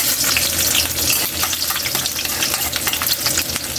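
Garlic sizzles in hot oil in a pan, a loud, close, steady crackling hiss with frequent stirring scrapes and no talk.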